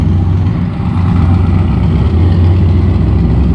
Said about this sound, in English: Still hear some exhaust leaks.